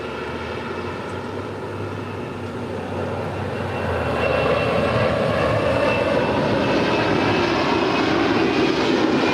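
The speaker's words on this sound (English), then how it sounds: "Looks like the MD-11 freighter" An MD-11 freighter rolls for takeoff, its broad engine roar steady at first, then swelling noticeably louder about halfway through and holding strong to the end.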